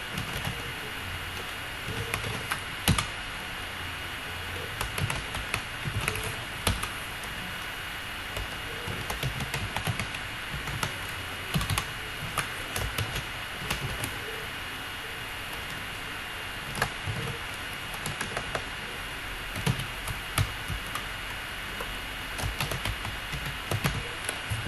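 A computer keyboard clicks away as names are typed into an Excel spreadsheet, giving soft, irregular keystrokes over a steady background hiss.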